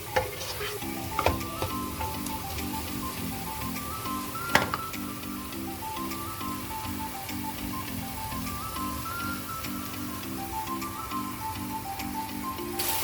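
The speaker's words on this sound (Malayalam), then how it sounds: "നന്നായിട്ട് മിക്സ് ചെയ്ത് കൊടുക്കാം." Mango and blueberries stir in a pan for fruit payasam, with a soft steady sizzle under a repeated rhythmic scraping of the spoon against the pan and one sharp knock partway through, close and without voices.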